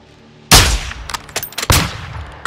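Sniper rifle shots ring out in Call of Duty Modern Warfare II, two sharp, loud reports about a second apart with echoing tails and scattered smaller clatters between them.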